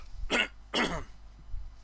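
Two loud, harsh coughs from one person burst out close by with a short gap between them, followed by a fainter third cough, with no talking.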